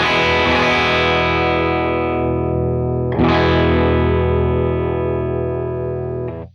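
Telecaster electric guitar played through a pedalboard with the tone control turned up bright, sounding a sustained distorted chord with effects, then restruck halfway through and left to ring before cutting off. Loud and alone.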